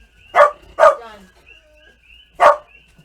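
A dog barks three times close by, two sharp barks in quick succession, then a pause before a single louder one, in a quiet room.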